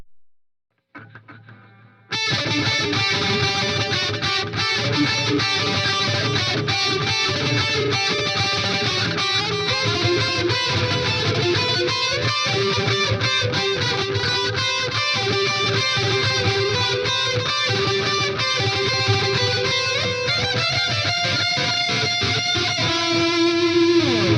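Sustained distorted electric guitar through a Line 6 Helix with a Mesa Boogie-style tone and trailing delay effect, loud and continuous after a brief quiet start, no voices.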